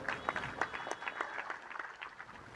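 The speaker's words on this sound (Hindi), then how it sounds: "एक बार उनके लिए जोरदार ताली बजाइए।" An audience at a Hindi religious discourse gathering gives a round of applause, heard as quiet, loosely spaced claps from a modest crowd with sharp individual hand strikes standing out.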